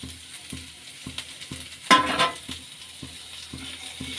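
Ginger, garlic and green chillies frying in oil, a low steady sizzle with regular rhythmic taps of a spatula and one louder burst of crackling midway, close by and without talk.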